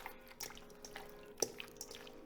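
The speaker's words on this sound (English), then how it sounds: "I'm gonna pour this right on top of our wings." Hot honey sauce poured over chicken wings, giving soft wet drips and splats in an irregular rhythm, with one sharper splash partway through, close and fairly quiet.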